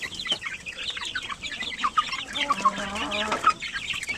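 Chickens and chicks for sale cluck and chirp in a busy flock, overlapping short calls and a lower drawn-out cluck, moderately close with no talk.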